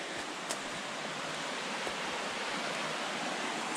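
Mud Brook runs alongside a wooded hiking trail on Caribou Mountain, giving a steady, close broadband rush of flowing water throughout, with a few faint clicks and no voices.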